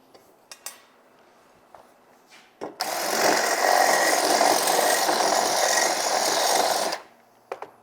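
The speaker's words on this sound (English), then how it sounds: "We're going to deburr that hole as well." A power deburring tool grinds the edge of a rivet hole in a carbon steel skillet, one steady harsh whir of about four seconds after a few light taps, close and alone.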